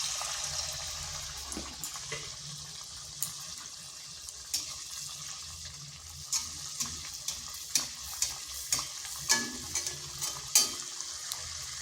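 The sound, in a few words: bakul pitha frying in oil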